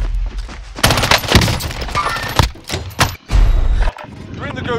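Bursts of automatic gunfire in Call of Duty Modern Warfare, loud, rapid volleys with short pauses, some shots nearer and some farther off, with voices heard in between.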